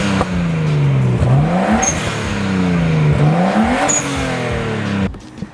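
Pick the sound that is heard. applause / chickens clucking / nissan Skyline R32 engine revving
nissan Skyline R32 engine revving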